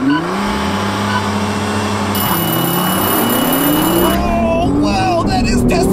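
A Toyota Supra and Nissan GT-R launch hard using launch control, with a loud engine roar climbing through rising revs and gear changes, then a higher-pitched surge; no speech is heard.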